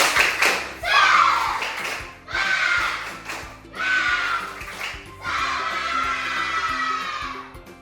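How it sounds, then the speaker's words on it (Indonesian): A primary school class performs a rhythmic group clapping routine, with sharp claps in patterned bursts between loud shouted chants from the children, a teacher leading, close and energetic. "mari kita tepuk semangat dulu"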